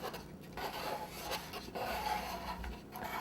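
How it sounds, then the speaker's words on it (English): A spatula scraping excess buttercream off the edge of a frozen cake, a soft continuous rubbing and rasping close by, faint and steady with no talking. "we just go around the edge first and just kind of scrape off"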